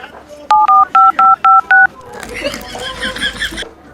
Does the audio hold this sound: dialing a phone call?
yes